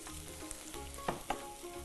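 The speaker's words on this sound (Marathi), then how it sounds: "कांद्यानंतर थोडीशी आले लसणाची पेस्ट घेऊया" Onion and ginger-garlic paste frying for Kolhapuri misal, a soft steady sizzle with a couple of brief stirring knocks, close but faint, no speech.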